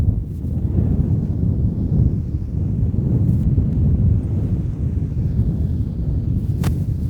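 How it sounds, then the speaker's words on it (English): Icy wind sweeps across a sunny, windswept coastal peninsula, a steady loud low roar buffeting the microphone for several seconds with no let-up and no voices. "the sun's out, but the wind is icy"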